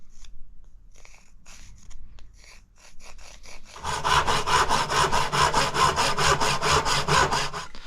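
A wooden axe handle for a Hults Bruk axe is cut with a hand saw: a few light taps and scrapes first, then a loud, close run of rhythmic back-and-forth saw strokes.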